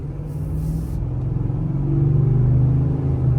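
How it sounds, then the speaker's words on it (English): A brand new truck on fresh 93-octane fuel accelerates gently, its engine a close, loud rumble that climbs in pitch and swells in volume partway through. "First little acceleration."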